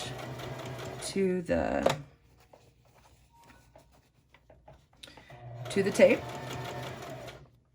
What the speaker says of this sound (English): So we're gonna top stitch